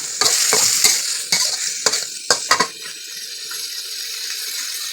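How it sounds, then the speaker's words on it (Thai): Cleaned eel poured into a hot pan for a spicy stir-fry with sour bamboo shoots erupts into loud close sizzling, with repeated sharp stirring clatters over the first few seconds before settling into a steady hiss. "หังนั้นเราก็จะเทปลาไหล ที่เราทำแล้วล้างให้เรียบร้อยแล้ว"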